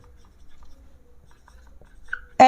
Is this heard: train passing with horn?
no